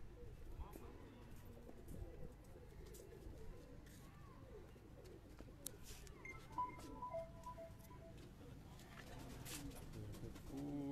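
Pure silver pigeons cooing on a Karachi rooftop, soft repeated coos and a few chirps at moderate distance over low background hum, with faint talk now and then.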